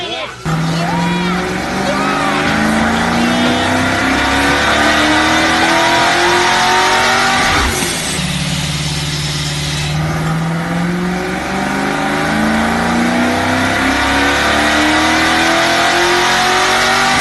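A supercharged 347 stock block engine making about 640 horsepower on 14 pounds of boost screams through a long, rising rev pull on a dyno, loud and close, dipping briefly mid-run before climbing again.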